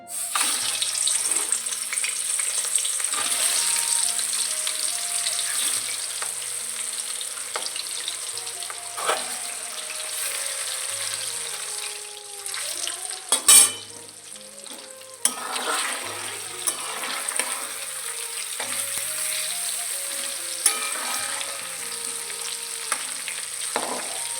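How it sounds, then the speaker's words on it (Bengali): Fish pieces frying in hot oil in a wok make a steady, loud sizzle and crackle across the whole stretch, with splashy bursts and a brief louder clatter near the middle; running-water-like hiss persists and no one speaks. "কড়াইয়ে তেল গরম হয়ে গেছে এখন মাছ ছাড়বো একটা একটা করে"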